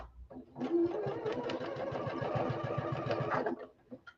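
A sewing machine stitching a quilt, its needle chattering in a fast steady rhythm for about three seconds, close and fairly quiet, starting and stopping cleanly.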